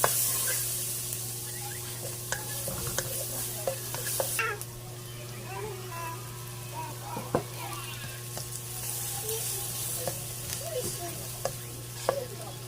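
Chopped onion sizzling in melted butter in a pan for seafood paella, a steady close hiss with occasional stirring clinks and scrapes, while a low hum runs underneath.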